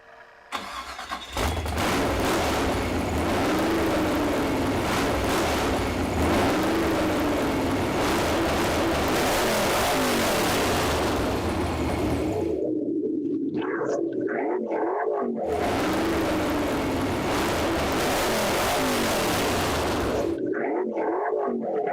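An engine cranks and catches, then runs loud and rough for a long stretch, the sound dropping out twice in brief gaps.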